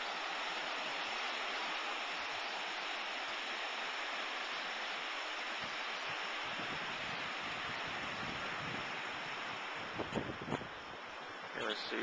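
Steady rushing wash of ocean water on a calm day at Siesta Key Beach, a fine-sand beach at low tide, continuous and moderately loud with a few faint knocks near the end.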